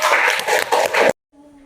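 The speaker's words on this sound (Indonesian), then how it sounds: "Tepuk tangan untuk kelompok 1." Short burst of classroom applause for a student group, a dense patter of hand claps lasting about a second and then cutting off abruptly into quiet.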